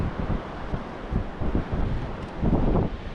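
Steady wind buffets the microphone on a Northumberland beach at Cambois during shore fishing, a rough, gusty roar that swells and dips in uneven pulses with no voices.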